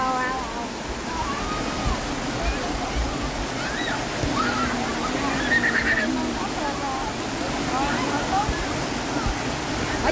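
Tap water pours steadily down from a hillside spout into a stream where a child is bathed, a continuous rushing splash throughout, with voices and children's calls over it.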